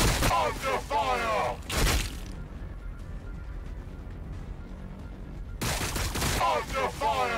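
Gunfire bursts in the Warhammer 40K Battlesector video game crackle loudly around a quieter stretch of low background noise, with someone speaking before and after the shooting.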